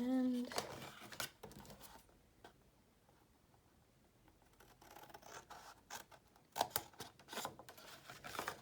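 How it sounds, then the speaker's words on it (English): Scissors snip through folded patterned paper while a mini album folio is being made, a few quiet, brief cutting and rubbing sounds at close range with soft speech around them. "And we will have to snip that here."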